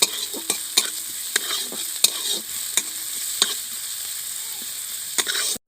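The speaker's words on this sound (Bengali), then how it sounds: "এবার দিয়ে দিচ্ছি আদা কুচি, রসুন কুচি দিয়ে দিচ্ছি, দিয়ে পেঁয়াজের মতন হালকা করে ভেজে নেব।" Chopped ginger and garlic frying with onions in a pan for egg cutlets, a light continuous sizzle punctuated by regular sharp clicks of a spatula stirring against the pan, close with no talking.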